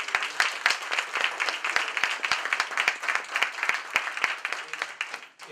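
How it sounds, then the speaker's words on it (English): An audience at a school board of education meeting claps for several seconds, a steady patter of individual hand claps, moderately distant and fairly thin, tapering off near the end. "I just want to give a big round of applause for that big milestone"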